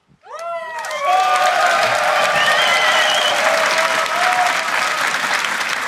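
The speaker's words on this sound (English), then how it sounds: "An applause is in order for these guys, the Spring Split champions once again." Applause and cheering from an esports crowd greet League of Legends Spring Split champions Fnatic on stage, a dense loud clapping roar that swells in after a brief whoop and holds steady throughout.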